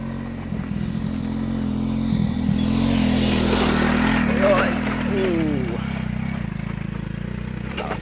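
A motorcycle engine drones steadily, swelling a little as it rolls past on farmland pasture in Umingan, Pangasinan, with some faint rattling and brief voices in the background.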